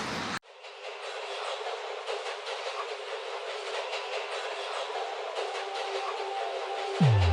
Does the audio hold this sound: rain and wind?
no